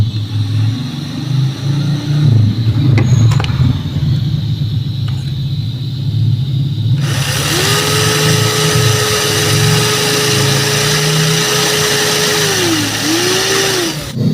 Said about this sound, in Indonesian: Jadi kita miringkan seperti ini, kita bor miring.